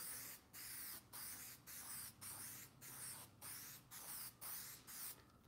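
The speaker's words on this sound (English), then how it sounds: "I'm going to spray the foil." Spray adhesive hisses onto foil and a backing board in about nine steady, evenly spaced bursts, each lasting around half a second, close and continuous with short gaps between.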